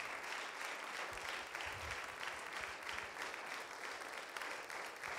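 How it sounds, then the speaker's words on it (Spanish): An audience claps steadily in a bilingual church conference setting, a dense continuous wash of applause filling the room without pause, with no speech over it. "With a round of applause"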